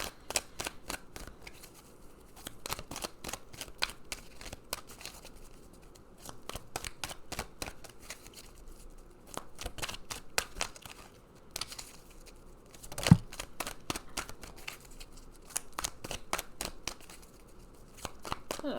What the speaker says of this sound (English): let's pull some more cards and see what further message we get.